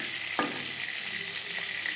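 Oil heating in a kadai wok already used for frying fish, crackling in a continuous close sizzle with a brief clink of a utensil near the start and no voices.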